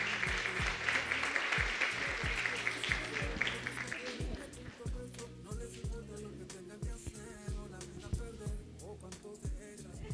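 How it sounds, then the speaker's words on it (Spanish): A Sunday church congregation claps during a gift presentation, brief applause at first over a low rhythmic musical backing that continues after the clapping fades, with a voice faintly present. "Un aplauso, ¿cierto?"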